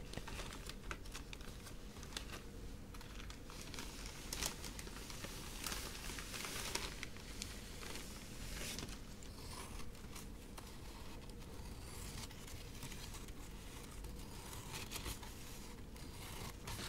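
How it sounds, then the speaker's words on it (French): Florist's wrapping paper is handled and unwrapped close up, with continuous crisp crinkling, rustling and small tapping sounds throughout, no talking. "déjà, je vais sortir le papier"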